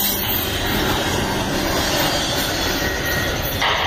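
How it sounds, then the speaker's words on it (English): A CSX freight train rolling along the line in Blaisdell, Buffalo, New York: a loud, continuous rumble of wheels on rail with metallic squeal and hiss, close and steady for the whole stretch, with no talking. "there's that train up there in Blaisdell"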